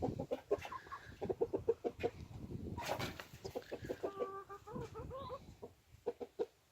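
Laying hens cluck in a farmyard with short, rhythmic clucks and a louder squawk midway. The sounds are fairly faint and close together.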